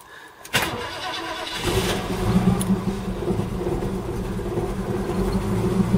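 A cold V8 engine cranks and catches, then settles into a loud, steady, rumbling idle that carries on to the end without a break.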